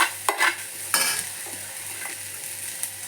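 Ivy gourd with grated coconut is stir-fried in a pan, giving a soft steady sizzle close by, broken by a few sharp scraping strokes of the spatula.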